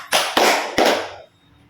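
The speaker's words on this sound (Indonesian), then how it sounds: "teman-teman semua tepuk tangannya 2 kali" A group claps in unison, producing three sharp, echoing claps in quick succession that are loud and close, each ringing briefly before the next, then silence.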